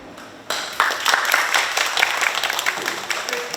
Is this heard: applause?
yes